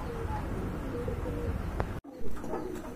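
A pair of Damachin pigeons cooing softly nearby, with a few low coos over background noise and a brief dropout midway, followed by a louder burst.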